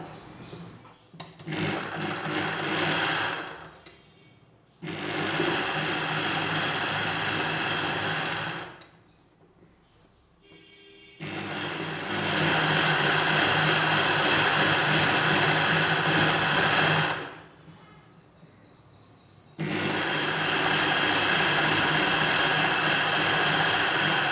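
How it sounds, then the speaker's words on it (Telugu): A sewing machine stitches the side seam of a nighty in four long, loud runs of steady motor whir, separated by brief pauses, with no talking. "హ్యాండ్స్ చివర లూజ్ చూసుకొని ఇలా సైడ్ కుట్టు వేసుకోవాలి."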